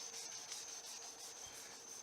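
Wet sanding on a Honda Accord body panel, a soft continuous rubbing rasp with a faint high steady tone underneath, quiet and close with no talking.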